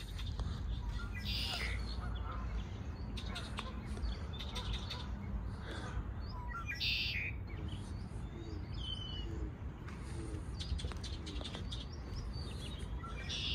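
Faint high chirps and tweets from a bird come and go over a steady low rumbling background, repeating irregularly throughout.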